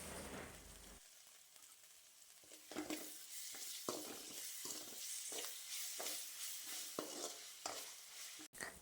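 Ginger-garlic paste and curry leaves fry in a pan, a steady close sizzle with repeated stirring scrapes and small bursts of crackle, no talking.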